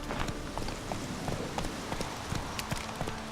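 Horse hooves clip-clop in an even trotting rhythm in The Witcher 3, moderately close over a soft, constant background of game ambience.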